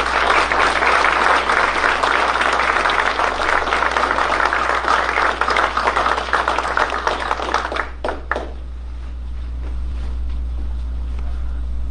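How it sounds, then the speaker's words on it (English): A crowd at a military promotion ceremony claps steadily for several seconds, then the applause thins out and stops, leaving a quiet room hum. "Round of applause."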